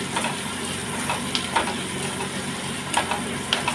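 Chopped onion sizzles with a little salt in a hot pan, a steady close frying hiss broken by a few sharp stirring scrapes and clicks.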